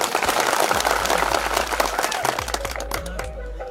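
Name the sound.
crowd applause at political rally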